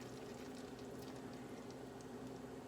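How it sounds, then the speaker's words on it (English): Sauce poured over beef strips in a hot skillet makes a steady, even sizzle and bubbling that holds through the whole stretch, quiet and close, with no voices. "I'm just going to pour this sauce over this."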